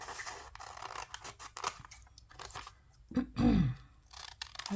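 Scissors trimming book pages for an antique French document journal; a brief crunching snip close by, among soft paper rustling and handling noises.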